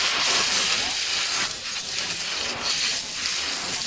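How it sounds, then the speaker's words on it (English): Liver meat frying in hot oil in a pan, giving a steady broadband hiss and sizzle that holds close and even throughout with no talk. "With some hot oil in a pan, we're going to add our liver meat and fry it well."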